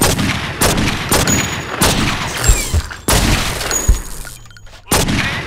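Repeated gunshots fired at targets in the video game True Crime: New York City, loud and close, coming as sharp separate bangs in an uneven rhythm across the whole stretch, with a brief lull near the end.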